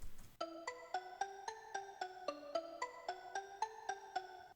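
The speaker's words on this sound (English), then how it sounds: "this kind of a sweet bell sound" Sweet bell-like synth layered over a plucky melody, a run of chiming staccato notes with ringing overtones, soft and steady, alone with no voices.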